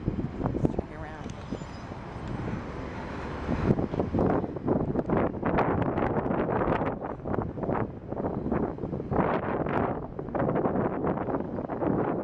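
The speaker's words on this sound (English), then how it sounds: "You probably can't hear me because it's so windy." Strong wind blasting into the microphone on a boat makes a steady, loud roaring rumble with gusty swells throughout, and a voice is partly buried underneath.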